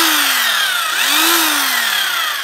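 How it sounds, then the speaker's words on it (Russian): A Hyundai H900 Expert rotary hammer drill running continuously, a loud, close, steady high-pitched motor whine with the pitch dipping and rising as the speed shifts, alone without voices. "Сейчас я его включу в розетку и продемонстрирую, как он себя ведет."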